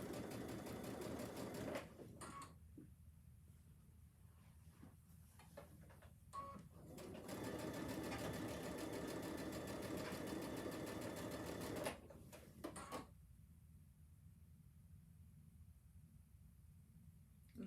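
Sewing machine stitching a quarter inch seam on a quilted placemat, running in two long steady bursts with quiet pauses between, close and alone.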